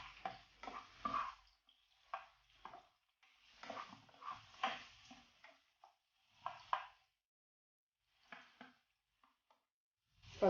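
Ginger being stirred in a cooking pan for chicken igado, giving soft intermittent scraping and stirring bursts with light sizzle, close by, separated by brief quiet gaps.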